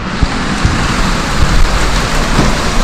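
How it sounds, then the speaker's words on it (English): Heavy rain pours down at Mirissa beach in Sri Lanka, a dense, loud, continuous hiss of drops pounding surfaces nearby, with occasional heavier splats and no voices. "1 hour and still raining."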